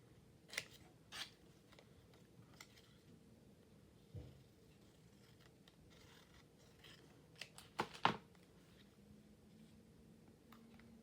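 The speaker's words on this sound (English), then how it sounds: "Maybe I can get by with just snipping this one." Scissors snip paper for a crossword-puzzle collage: a handful of faint, crisp cuts close by, spaced irregularly, with a quick cluster of snips near the end over a quiet room.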